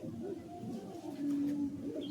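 An Andhra pigeon, a white hen of a high-flying breed, gives soft, low rolling coos close by against quiet background noise.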